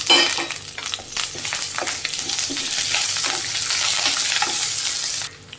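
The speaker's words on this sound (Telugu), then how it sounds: "ఇప్పుడు మనం ఎండుమిరపకాయని కరివేపాకును కూడా వేసేసుకుందాం" Dry red chillies and curry leaves sizzle loudly in hot oil as a tempering for a grated coconut and raw mango chutney, with repeated stirring clinks over the hiss before it cuts off suddenly.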